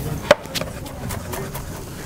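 A knife chops fresh parsley on a board, with one crisp knock followed by a few softer, quick taps close by.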